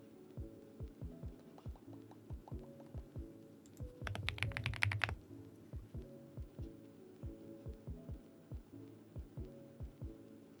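Mechanical keyboard with a creamy sound profile typed on at a steady, close rhythm of soft, deep keystrokes, with a brief burst of faster, brighter clacking midway before the even typing resumes.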